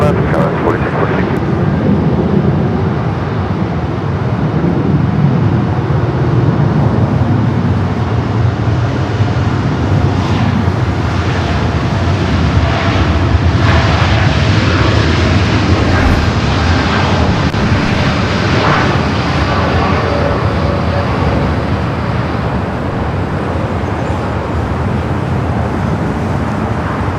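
An airliner rolls down a runway at Los Angeles airport, its engines making a loud, continuous roar that swells slightly midway, with a radio or voice talking faintly over it.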